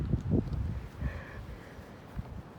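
Strong wind during a spring windstorm, low rumbling gusts buffeting the microphone in uneven bursts, close and fairly loud, with a faint tonal whine in the middle and no voices.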